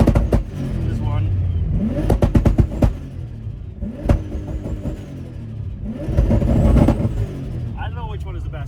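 A 1300 HP Nissan Patrol engine revs hard, bouncing off its rev limiter in repeated sharp bursts, loud and close, with people talking over the engine throughout.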